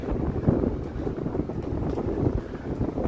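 Cold, gusty wind on a Toronto street buffets the microphone in low, uneven rushes, rising and falling without pause.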